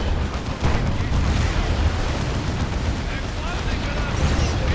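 A looted tank is destroyed during a 2v2 Warhammer 40,000: Dawn of War 2 battle: dense, continuous rumbling blasts and gunfire-like crackle fill the whole stretch at steady, loud level.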